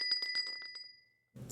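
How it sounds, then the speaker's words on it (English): A small bell hung above a junk shop's door jangles in a quick run of bright, shimmering strikes that fade out, followed by a brief low rumble. "the bell above the door jangling as we entered"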